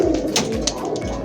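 Pigeons coo close by at a pigeon keeper's loft, soft throaty rolling calls repeating in quick succession over a low murmur, with no voices over them.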